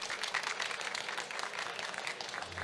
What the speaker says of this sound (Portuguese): Uma salva de palmas para Ramon!